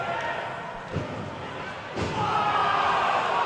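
A steel chair strikes a wrestler during a televised championship wrestling match, a sharp slam near one second, another impact at two seconds, then arena crowd noise swells.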